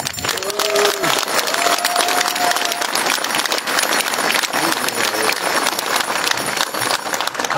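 Steady, dense applause from a political rally crowd in Poprad, running loud and continuous throughout, with a few whoops and calls rising over the clapping.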